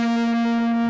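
Electric guitar through effects playing a group of four notes from a riff, a steady sustained tone with strong harmonics, loud and alone without talk.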